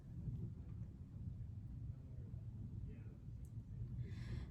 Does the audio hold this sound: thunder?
yes